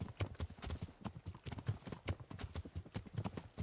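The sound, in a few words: horse hooves in video game Kingdom Come Deliverance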